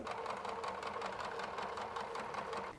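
A sewing machine stitches a fabric Christmas stocking, giving a steady, continuous mechanical whir with a fast, even rhythm from start to finish and no talk over it.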